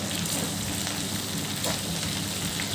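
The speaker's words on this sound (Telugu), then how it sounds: "తేమంతా పోయే వరకు దీన్ని మనం వేయించుకోవాలి" Curry leaves frying in a pan being cooked until all their moisture is gone, a dense continuous crackling sizzle, close and steady with brief brighter spatters and no voices.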